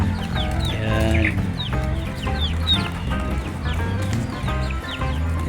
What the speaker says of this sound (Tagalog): Ito ang aking munting manukan.